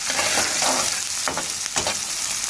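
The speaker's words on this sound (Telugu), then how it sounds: "ఆనియన్ బాగా వేగాలి," Onions frying in a hot tempering of spiced oil in a pan, a dense, steady sizzle with crackling spurts and a few stirring scrapes, close and loud throughout with no voices.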